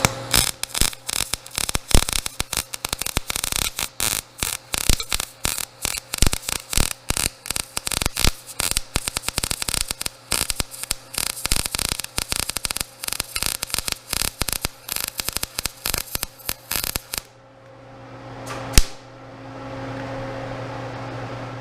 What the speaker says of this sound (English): I'll be able to stand this whole thing up and weld the top fully